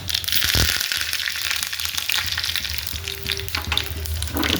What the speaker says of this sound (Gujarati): હવે નાળિયેરની ચટણી માટે વઘાર કરું છું